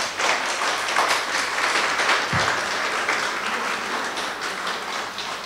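An audience at a literary event honoring André Gide breaks into sustained applause after a speech, a dense, even wash of many hands clapping throughout, fairly close and loud, with no talking over it.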